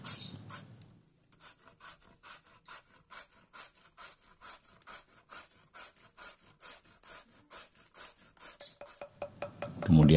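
Roasted coconut is rubbed across a grater in a steady, rhythmic series of about two dozen rasping strokes, close and clear, with brief handling noise at the start and end.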